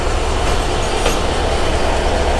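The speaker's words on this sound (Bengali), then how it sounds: "আর এই যে আমাদের আমেরিকান লোকোমোটিভের সাথে যাত্রা শুরু হলো পার্বতীপুর স্টেশন থেকে" A train hauled by an American-built locomotive departs Parbatipur station in Bangladesh, with a loud, continuous rumble and rattle of wagons rolling close by and a faint squeal, and no speech.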